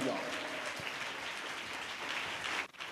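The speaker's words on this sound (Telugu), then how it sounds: "గట్టిగా చప్పట్లు కొట్టండి." A church congregation claps loudly in a dense, continuous wash of hands that stops abruptly at the end, with voices mixed in underneath.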